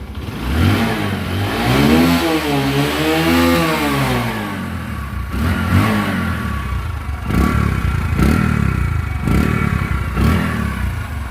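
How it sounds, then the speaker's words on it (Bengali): A Discover 125 motorcycle, its engine just fitted with new piston rings and a reset head, revs up and down close by, with a smooth rising and falling tone, then a series of sharp throttle blips. "ইঞ্জিনের সাউন্ডটা শুনুন,"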